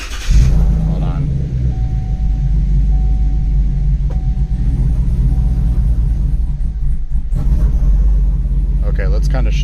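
Chevrolet Colorado pickup with a swapped-in V8, idling in drive: a steady, loud low rumble throughout, with a faint whine and brief clicks near the end.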